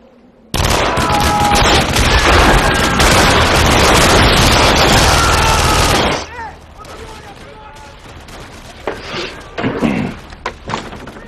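A dense, loud volley of sci-fi gunfire blasts for several seconds, then cuts off abruptly, leaving quieter scattered clatter and impacts with a voice briefly heard.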